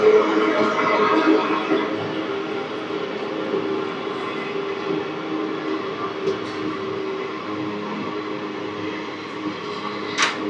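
A train stands or creeps at Nallapadu junction, giving a steady, close rumble with a layered mechanical hum that runs without a break for about ten seconds, with a couple of brief higher clanks near the end.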